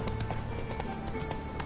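The horse Roach gallops in Witcher 3, its hooves clip-clopping in a quick, steady rhythm at moderate loudness, alone without speech.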